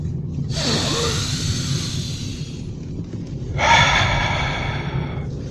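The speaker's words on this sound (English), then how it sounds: "Breath number 3" A person takes a big, deep breath during a breathing break: a long airy inhale followed by a forceful rushing exhale, close and loud, with no talking.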